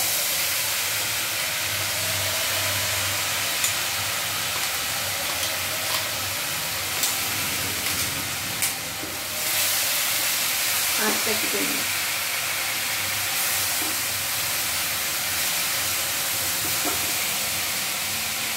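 Paste of ginger, green chilli, cashew and curd frying in a kadai, a steady close hiss and sizzle running throughout, with a few faint knocks and a brief murmur of voice in the middle.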